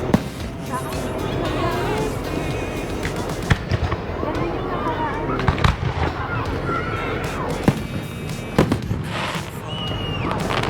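Fourth of July fireworks bursting in a dense, continuous barrage of booms and crackles, with sharper reports standing out now and then, while people talk nearby throughout.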